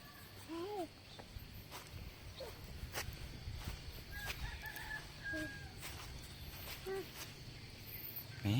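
Chickens cluck and a rooster crows repeatedly around a temple grounds in Laos, fairly quiet and spread out, with footsteps and occasional voices in the background.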